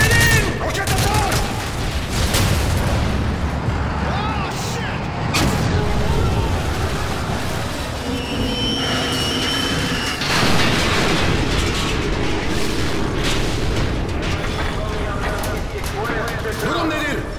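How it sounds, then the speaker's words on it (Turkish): Call of Duty MW3 battle with rocket launcher explosions and heavy gunfire, loud bursts of automatic fire and booms rolling over nearly eighteen seconds, with soldiers' radio voices talking amid the combat. "Roket atar."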